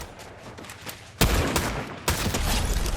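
Gunfire in the video game Fortnite: quiet scattered shots first, then two loud, close, sustained bursts of rapid automatic fire, with no talking.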